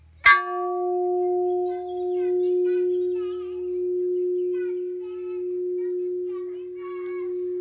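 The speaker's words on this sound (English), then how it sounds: "This is the new alloy for my new winter tire, and I just found out that it sounds like a bell." A new alloy wheel rim for a winter tire is struck once and rings like a bell, a sharp metallic hit followed by a long, clear sustained tone that fades slowly.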